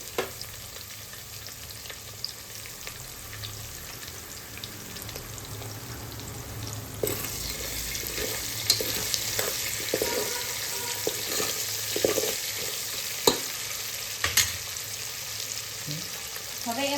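Three small chopped onions frying in a pan for Rajwadi biryani, a low continuous sizzle that grows livelier once they go in, with intermittent stirring scrapes and clinks over the sustained hiss.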